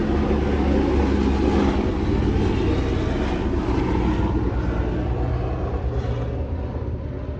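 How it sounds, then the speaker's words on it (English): A steady, loud low rumble of a helicopter flying overhead, droning continuously and fading slightly toward the end. "Pause for a second for the helicopter to go by."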